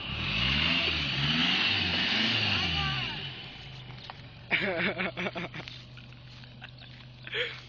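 A Vito van engine starts and revs near the microphone, rising in surges through the first few seconds before settling to a low idle, with people talking and shouting excitedly over it.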